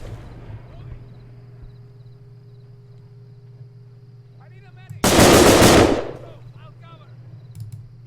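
A fully automatic weapon in a video game fires a single loud sustained burst of rapid shots lasting about a second, set against a quiet steady background hum.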